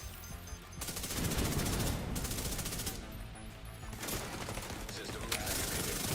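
Automatic assault turret firing in The Division 2, sustained bursts of rapid gunfire running nearly the whole time amid the game's loud combat mix, with a short pause near the start.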